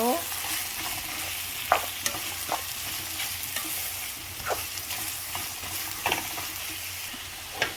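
Loitta dried fish mash frying in a pan while being stirred, soft steady sizzle broken by repeated spatula scrapes at an irregular rhythm, close and fairly quiet, no talking.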